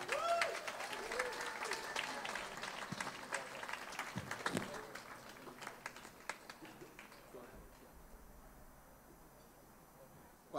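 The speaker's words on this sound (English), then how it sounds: "Round of applause for our amazing two." An audience at a Tower Cancer Research Foundation award event gives two children a round of applause, loud at first and then tapering off into scattered claps and quiet room noise.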